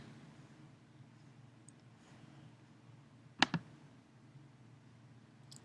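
Two quick, crisp mouse clicks sound close together and close up against a quiet background of faint hum.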